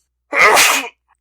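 A single sharp sneeze, close and loud, bursting out abruptly and ending in under a second against otherwise silent surroundings.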